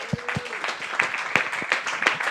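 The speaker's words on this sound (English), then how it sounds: "Please give yourselves a round of applause." Sparse applause at a peace-partnership round table, a few scattered claps rising into a light, uneven patter from a small group at close range.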